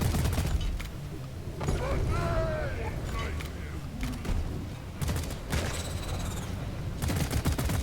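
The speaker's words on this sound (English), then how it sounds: "I'm just gonna throw a shit ton of grenades at it." Grenade blasts and rapid gunfire in the cave-mining co-op game Deep Rock Galactic, a dense run of loud booms and crackling shots layered over constant game rumble, with several bursts stacking up through the stretch.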